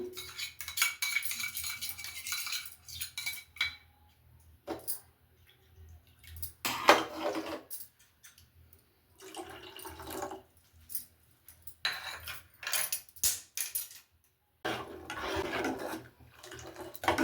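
Barley malt being stirred into a pot of hot milk, with intermittent scraping and clinking of a spoon against the pot coming in short bursts separated by quiet gaps, close but soft.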